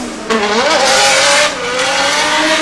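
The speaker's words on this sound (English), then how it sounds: "RB25 in this 600 horsepower Skyline, considered the boat of the drifting world because they're so big." A 600 hp RB25-powered Nissan Skyline drift car revs hard at a British Drift Championship round at Teesside. Its loud, close engine note climbs in pitch, wavers, then holds a sustained scream with tire noise underneath.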